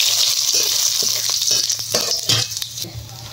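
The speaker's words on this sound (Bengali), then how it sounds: "দিয়ে দেবো জিরে ফোড়ন, তেজপাতা ফোড়ন" Cumin seeds and bay leaf hit hot mustard oil and sizzle steadily, a bright crackling hiss with small pops and stirring clinks close by.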